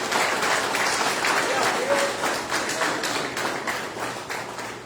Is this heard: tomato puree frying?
no